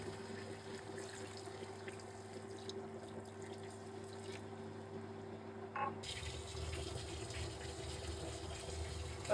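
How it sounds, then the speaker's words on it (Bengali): Faint water runs steadily into a pot of hilsa fish cooking with banana over a low hum, and the flow shifts partway through. "কয়েক পানি দিয়ে দিলাম"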